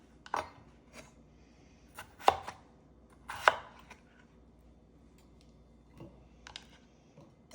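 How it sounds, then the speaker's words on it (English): A knife chops vegetables into small cubes on a cutting board for an Indian-style vegan okra stew, giving sparse, faint, sharp taps with long pauses and no talking. "Cut it again and cut them to small cubes"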